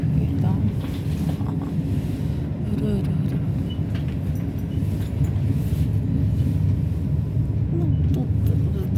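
Car driving through a series of tunnels in the Italian mountains, with a steady, dense low rumble of engine and road noise filling the space throughout, no talking.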